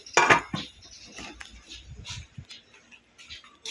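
A metal lid clanks onto a pot of sinigang na bangus, one sharp clatter followed by a few lighter clinks and scrapes of cookware settling, close by in a home kitchen.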